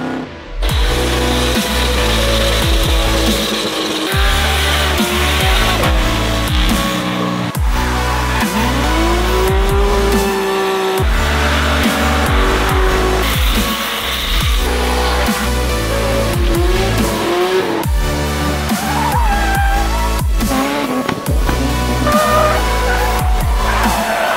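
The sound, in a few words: drift cars racing with tire squeal at Drift Cup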